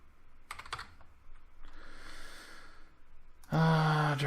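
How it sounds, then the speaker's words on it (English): A computer keyboard is typed on in short bursts of quick key clicks, with a breathy exhale in the middle and a louder voiced sound at the end. "I'm just going to type Mosfet in."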